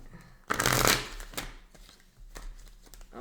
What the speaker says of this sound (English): One more shuffle, Cancer, for your messages from Spirit.